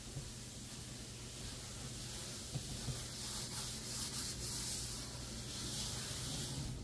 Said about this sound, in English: So I first scrub the inside of the wok all the way up to the edge.